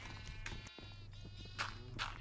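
Sheep bleating in Minecraft, several short wavering calls over a steady low hum, with a brief gap before another bleat rises near the end.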